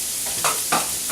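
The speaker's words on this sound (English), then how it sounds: "We're going to just stir fry these first because they take the longest to get tender" Vegetables sizzling steadily in vegetable oil as they stir fry for chop suey, with two brief scraping stirs of the pan over the constant hiss, close and loud.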